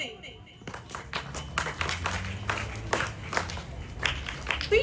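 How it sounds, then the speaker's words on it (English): An audience claps in a sustained round of applause at a school Independence Day event after a pre-primary performance. The clapping is dense and moderately distant, with voices and a little crowd murmur underneath. "A big round of applause for all our little freedom fighters who made us proud today."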